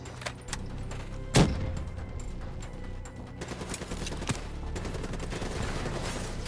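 Gunfire rattles in a Call of Duty: Black Ops III campaign battle against rogue robots, with one sharp loud burst standing out over a dense, steady wash of distant shots and combat noise.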